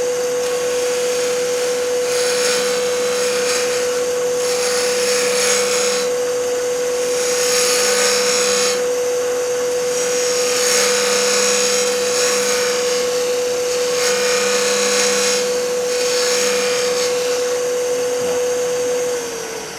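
A milling machine with a 12mm cutter machines a 3/8 inch round bar. It gives a loud, steady motor whine with a constant pitch for the whole stretch, over broadband cutting noise, with no talking.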